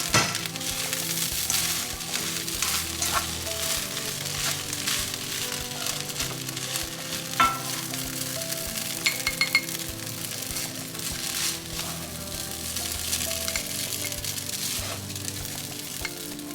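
Seafood fried black rice sizzles steadily in a hot pan while it is stirred, with occasional clinks of a utensil against the pan and no voices.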